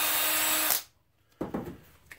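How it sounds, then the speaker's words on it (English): A power drill with a larger bit bores a hole, whining loudly and close before spinning down, followed by a few brief knocks and handling sounds. "Using a bigger drill bit"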